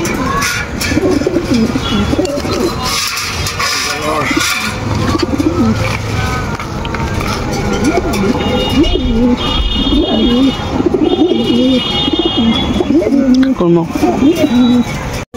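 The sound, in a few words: pigeons cooing, Saharanpuri pigeon pair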